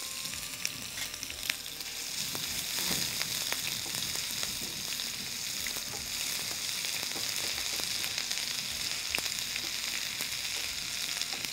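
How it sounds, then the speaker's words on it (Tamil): Green chili and ginger sauté in hot ghee, giving a steady, close crackling sizzle with occasional sharper pops and faint stirring throughout, no voices. "இந்த பச்சை மிளகாயும் இஞ்சியும் எண்ணெயில் அந்த நெய்யில் வதங்குற போது"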